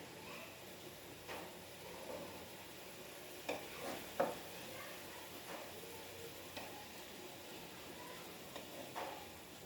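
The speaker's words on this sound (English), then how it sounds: "Let it fry very nicely." Mushrooms frying in a pan for a spicy dry mushroom chilli, a soft low sizzle with occasional stirring clatters and scrapes, fairly quiet and without speech.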